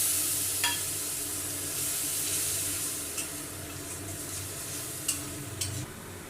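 Frying mutton masala sizzles loudly after a splash of water goes in, a steady close hiss with a few scraping stirs of a spoon.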